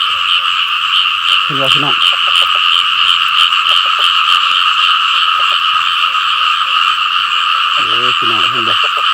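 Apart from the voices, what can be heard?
frogs croaking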